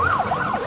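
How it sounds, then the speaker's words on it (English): An ambulance siren wails on a street in Jamaica on a rainy day, its pitch sweeping up and down in a repeating rise-and-fall, loud and fairly close, with no voices over it. "There's so much ambulance. Which way is it?"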